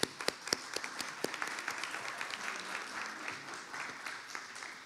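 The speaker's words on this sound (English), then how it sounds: "So a round of applause." An audience at an award nomination meeting gives a modest round of applause: scattered, distinct claps at first that thicken into a light, fairly distant patter, with faint murmuring underneath.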